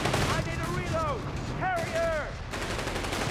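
Gunfire in the World War II strategy game Company of Heroes 3: rapid, rattling bursts of shots and distant booms running steadily throughout, with a voice talking over the battle noise.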